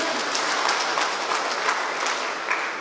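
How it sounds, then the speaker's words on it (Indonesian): A church congregation at an Easter service in Yahukimo applauds together, a dense, even wash of clapping that holds steady with no break. "Tepuk tangan di sebelah kanan."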